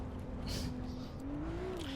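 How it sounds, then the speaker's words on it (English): High-pitched Ferrari engine in the racing game Assetto Corsa EVO, a steady whining tone that rises and falls in pitch as revs climb, loud and continuous throughout. "It does still have that high pitch sound that Ferrari used."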